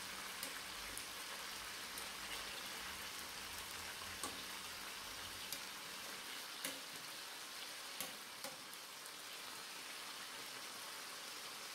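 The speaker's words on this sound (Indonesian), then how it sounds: "ini ayamnya ini kita tidak perlu goreng sampai kering, sampai matang benar" Chicken pieces for Lombok-style ayam rarang fry in hot oil in a pan, giving a steady, even sizzle with faint pops and crackles throughout and no talking.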